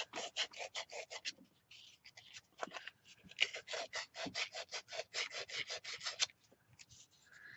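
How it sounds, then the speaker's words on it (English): Sandpaper rubs a handmade wooden drop spindle in quick, rhythmic back-and-forth strokes, close and fairly quiet, with a brief pause midway before the steady scraping resumes. "So I'm going to go ahead and work on sanding it some."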